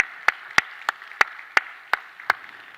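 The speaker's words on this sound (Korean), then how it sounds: "우리 박수로 한번 다시 한번 격려하겠습니다." Clapping at a church prayer service, seven sharp, evenly spaced claps against a quiet background, too sparse for a full congregation and sounding like one or a few people clapping in slow rhythm.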